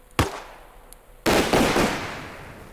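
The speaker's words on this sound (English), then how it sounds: "So it looks like it launches 6 smokes, and it gives you a nice little smoke coverage" Arma Reforger vehicle smoke launcher firing: one sharp pop, a pause, then a loud rapid cluster of launches that rings out and fades.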